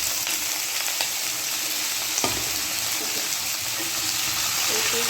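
Papaya pieces hit hot oil in a wok already holding dried chilli and cumin, giving a loud, continuous sizzle and crackle with a few scraping stirs.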